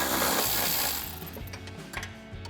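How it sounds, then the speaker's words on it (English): Ratchet wrench with a 12mm socket loosening a bolt on a car's power steering reservoir bracket, giving a close, steady run of rapid metallic clicks that tapers slightly after the first second. "So we'll grab that 12mm socket again to take that out."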